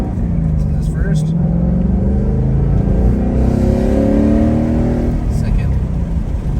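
A 2019 Ford Mustang GT with a Corsa active exhaust in quiet mode pulls hard in first gear, a steady loud rumbling engine note climbing in pitch across the clip and fading slightly at the end.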